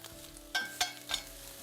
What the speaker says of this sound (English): now I have added just a few slices of onion to saute it